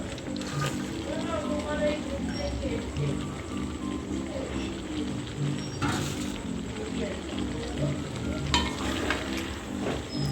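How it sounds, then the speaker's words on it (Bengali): Shrimp and fish roe are stirred into a pan of bottle gourd and potato curry, with a steady close sizzle of frying, occasional scraping from the stirring and a low background hum. "তারপরে এটাকে নাড়িয়ে দিয়ে আবারও কিছুক্ষণ এটাকে কষতে দেব"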